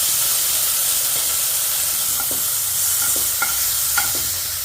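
Beetroot stir-fried in a pan with curry leaves and asafoetida, a loud, steady hiss of frying broken by a few sharp clinks and scrapes of a spatula, close up with no voices.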